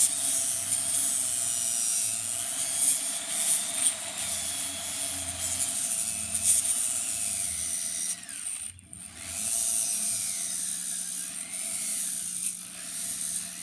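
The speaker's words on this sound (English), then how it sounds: "we're going to take the sander and we're going to just hit this one little edge." A power sander works lightly on one small edge of a phonograph carriage, giving a high-pitched whirring drone with slight pitch sweeps, briefly cut off midway before resuming.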